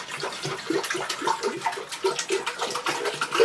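Water splashes and pours steadily into a cooking pot, a continuous watery rush with small bubbling surges, fairly close and with no voices.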